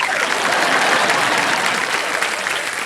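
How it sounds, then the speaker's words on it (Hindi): A studio audience on the game show KBC breaks into applause for a contestant, loud, dense and continuous clapping close to the mics for the whole stretch. "तालियां बज जाए इनके लिए"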